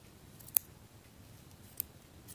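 Sharp scissors snipping yarn loops on a crocheted Santa hat granny square, two quick faint clicks about a second apart in a quiet room.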